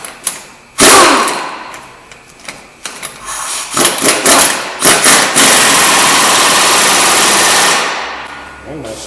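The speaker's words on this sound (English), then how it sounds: "then we're going to take our air gun" An air impact gun drives a wheel bearing nut tight on a 2007 Subaru Legacy rear hub, firing in short loud bursts before one long sustained hammering rattle that tapers off near the end.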